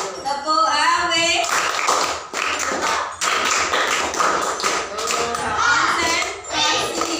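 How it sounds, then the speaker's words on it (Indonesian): A primary school class claps a set rhythmic pattern of single and double claps, loud and close, with children's voices mixed in. "Tepuk tunggal, tepuk dua, tepuk awe."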